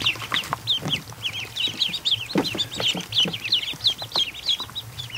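Crossbreed Muscovy ducklings peep in a dense, overlapping chorus of high, thin calls that repeat rapidly and steadily throughout, close by over a low background hum.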